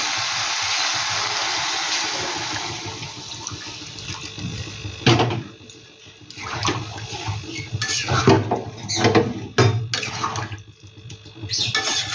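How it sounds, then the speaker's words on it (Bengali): Water is poured into a cooking pot in a home kitchen, a steady near splashing flow that breaks into uneven gurgles and clinks of the pot toward the end. "আমটার মতন জল দিয়ে দিচ্ছি।"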